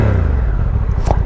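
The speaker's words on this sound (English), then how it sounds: "Exhaust note is pretty good for a stock one, you know." Stock exhaust of a Honda NT1100 motorcycle revving up close, a deep engine note rising briefly, heard alone without talk.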